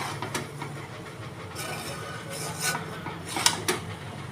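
A spoon scrapes and clinks against a cooking pot as biryani is stirred, producing faint intermittent scraping and metallic taps over low background hum.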